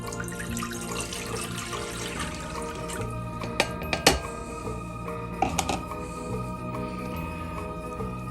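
Two cups of water pour into cake mix in a bowl, a continuous close liquid trickle with a few sharp clinks near the middle, set against a humming kitchen background.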